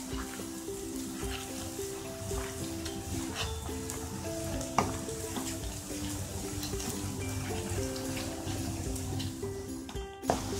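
Onions fry in a pan while they brown for a paneer masala, with a continuous crackling sizzle, occasional stirring clatter and a steady hum in the background.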